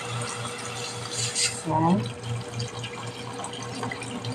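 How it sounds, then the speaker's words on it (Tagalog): Water runs steadily into a cooking pot while chicken liver simmers for a chicken macaroni soup, a continuous faucet-like hiss under a brief spoken word. "maglalagay na po tayo ng tubig"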